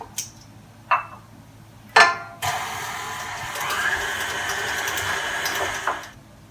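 An electric mixer whirs steadily as eggs are beaten into chocolate chip cookie dough, a sustained motor drone lasting several seconds after a few brief clicks and knocks, moderately close in a quiet kitchen.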